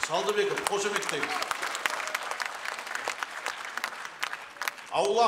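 Dense, sustained applause from a festival audience for a singer at a Kazakh zhyrshy (epic singers') festival, filling most of the stretch, with a voice speaking briefly at the start and again at the end.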